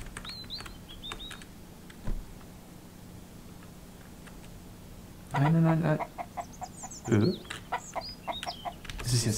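A chicken caught by the player in the survival game Mist Survival, with faint high chirps early, then a louder cluck burst midway and a few more short calls, while someone talks over it.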